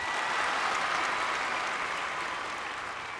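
Dense, steady applause from a studio audience on a family quiz game show, loud and continuous throughout with no voices on top.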